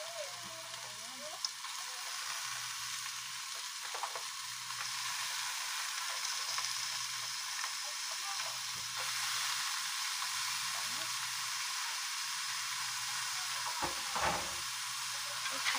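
Crab is frying in a pan for ginataang alimasag with sitaw and kalabasa, giving a soft, steady sizzle and hiss at a low level, with faint stirring clatter and a quiet voice talking.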